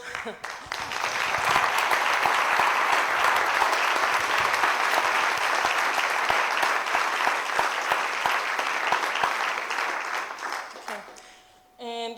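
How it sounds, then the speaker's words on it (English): A conference audience at a planning community meeting breaks into dense, sustained applause that holds steady for about ten seconds before tapering off, with a voice briefly heard at the very end. "So I think we can applaud"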